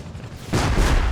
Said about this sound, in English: Oh man, it's shooting rockets!